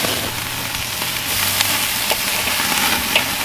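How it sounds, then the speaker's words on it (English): Ribeye steaks sear over direct heat on a hot charcoal grill, giving a loud, steady, close hiss of sizzling fat with small pops and crackles throughout. "move these steaks into sear position."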